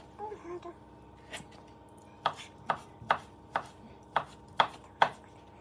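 A knife cutting sausage into cubes on a board for homemade pizza, a series of seven or eight crisp, evenly spaced chops close by, with faint talk at the start.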